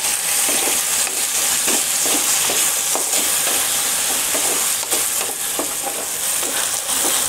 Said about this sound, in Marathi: 3 मीडियम आकाराचे टोमॅटो असे मोठ्या आकारामध्ये कापून त्याला फ्राय करून घेऊ आपण